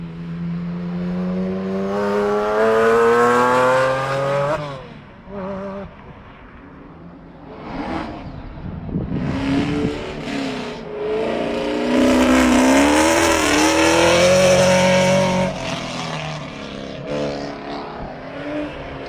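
A Porsche Boxster race car pulls away on track during a 2021 morning session at Gingerman, its engine revving loudly through rising gear sweeps, then fading before another car's engine surges and whines nearby.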